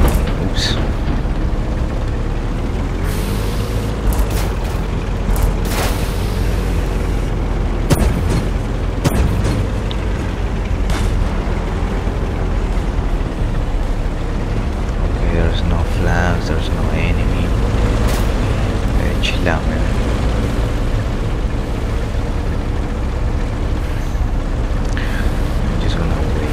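Tank cannon shots and explosions in the video game Tank Off 2, built with Unity and HTML5, form a dense, loud stream of repeated booms and sharp blasts over constant game noise.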